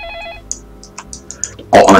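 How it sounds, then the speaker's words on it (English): A telephone ringing in the interactive drama game Facade, several short electronic ring chirps repeating at a steady pace, followed by a sudden loud burst of noise at the end. "Oh, I'm gonna answer the phone again."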